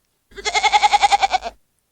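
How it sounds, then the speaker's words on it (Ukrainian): A goat gives a single loud, close bleat lasting just over a second, wavering in quick pulses before cutting off into silence. "Це коза."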